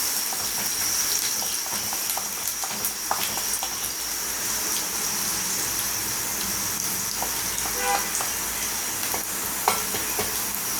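Onions sauté in a pan for mutton chukka with a constant hissing sizzle, steady and moderately loud, marked by occasional small clicks and scrapes from stirring; no voices.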